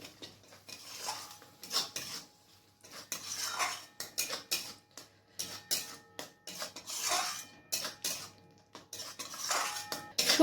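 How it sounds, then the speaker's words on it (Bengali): Mustard paste with a little water being stirred in a pan for a fish roe dish: repeated metal-on-pan scrapes and clinks in an irregular rhythm, close and clear with no talk. "সর্ষে বাটাটাকে আবার ভালো করে মিক্স করে নেব"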